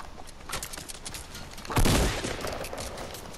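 Rapid automatic gunfire rattles in the Forever Winter video game, with quick repeated shots building to a louder, denser burst near the middle.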